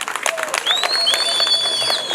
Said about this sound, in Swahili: Mimi napongeza, wapigeni makofi